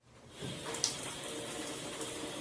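A cold shower is turned on, steady hissing spray rising over half a second into a continuous rush of running water, fairly faint and even, with no voices.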